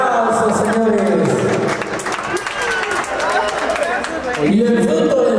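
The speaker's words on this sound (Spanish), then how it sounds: "¡Fuerte los aplausos, señores!" Guests applauding at a 50th birthday celebration in Huancayo, a steady wash of many hands clapping under a loud announcer's voice and music, continuing for several seconds.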